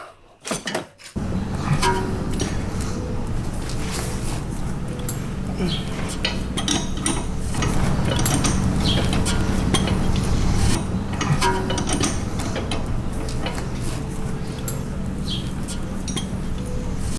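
Tools working on an Audi C7 sway bar end link during a lowering-fork suspension install: loud, continuous mechanical noise with scattered metallic clinks that runs nearly unbroken after a brief quiet start.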